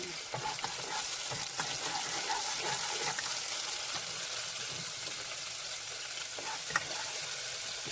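Garlic frying in hot oil in a pan for noodle soup gives a steady, close sizzle, with occasional stirring clinks and scrapes and no talk.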